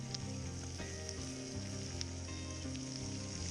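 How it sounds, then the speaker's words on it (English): Bacon sizzles over a shoreline campfire, a soft, steady crackle and hiss with a few faint pops, quiet and close with no talk over it. "And I got bacon going there."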